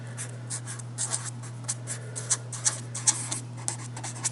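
A pen scratches across paper as a name is written out by hand, a close run of short, uneven strokes over a steady low hum.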